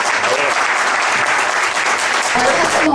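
A crowd in a council debate chamber bursts into loud, dense applause that holds steady and close for the whole stretch, with a few voices faintly underneath.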